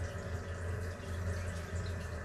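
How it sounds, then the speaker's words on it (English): Water flowing steadily through an underground clay sewer pipe, a continuous low rushing wash heard close with no talking. "judging by the water flow drop off, you're losing water out of the line here."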